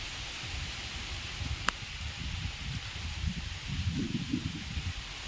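Heavy rain falls steadily over flooded village farm fields in Gujarat, a constant broadband hiss with low rumbling patter that swells briefly louder near the end, with one sharp click partway through.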